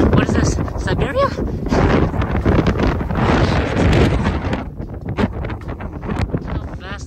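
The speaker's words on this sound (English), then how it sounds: "How fast the wind's blowing too." Strong wind buffets the microphone outdoors in a cold, open setting, a loud, continuous roaring rush with gusty swells that persists throughout, with voices talking over it at times.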